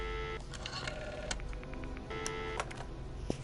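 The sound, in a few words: phone keypad dialing tones in Friday the 13th Virtual Cabin video game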